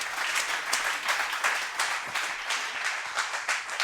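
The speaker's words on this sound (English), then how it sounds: "let's give a round of applause to our 4 speakers here." A conference audience on a main stage claps for four panel speakers, a steady, full round of applause with a few sharper individual claps, continuous and moderately loud.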